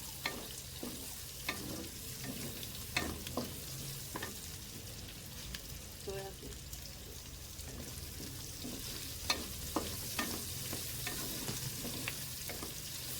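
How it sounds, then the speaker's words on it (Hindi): Onions fry lightly in ghee for chicken jalfrezi with a steady close sizzle. Scattered spoon scrapes and stirring clicks punctuate it, and no one speaks. "बस हमने इसको ज़्यादा भूनना नहीं है, प्याज को हल्का सा फ्राई करना है।"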